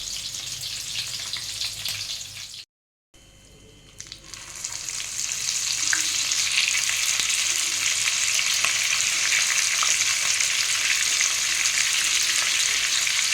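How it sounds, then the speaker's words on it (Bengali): Chicken satay pieces fry in oil in a pan over a lowered gas flame. A brief pause gives way to a loud, steady sizzle that swells and holds, with no talking. "এভাবে একটা একটা দিয়ে ভেজে নিতে হবে। আস্তে আস্তে গ্যাসটা কমিয়ে ভাজতে হবে, যাতে চিকেনটা সেদ্ধ হয়ে যায়।"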